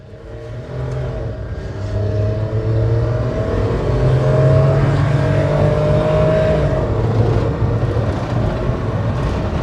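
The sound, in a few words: Nissan Clipper NT100 kei truck driving up a hill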